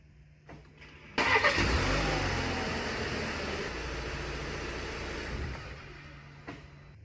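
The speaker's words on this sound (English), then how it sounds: "So we're gonna go ahead and start up the vehicle," An Audi Q3 engine cranks and catches with a sharp burst, then settles into a steady, fairly loud idle that slowly eases off, with no talking over it.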